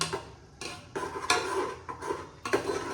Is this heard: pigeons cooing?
no